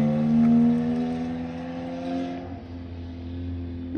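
Volkswagen MK8 Golf R with a DBV2 4-inch downpipe running its exhaust valves open, a loud, steady multi-tone drone from close by that drops into a deeper rumble partway through, with no talking.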